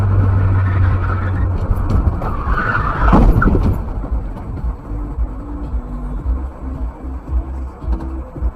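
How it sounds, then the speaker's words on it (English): A car skids loudly as it takes a turn too fast, loses control and spins out on an American road, tyres squealing for about a second amid steady engine and road rumble. "The camera must have taken the turn too quickly, causing the car to lose control and spin out"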